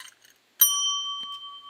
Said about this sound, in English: No drum roll, just a bell.